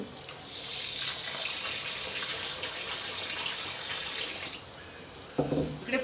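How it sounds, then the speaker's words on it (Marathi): Rice for moong dal khichdi is washed under running tap water, a steady close splashing stream that ends with a few louder sloshes and clinks. "तोपर्यंत आपण तांदूळ धुवून घेऊ."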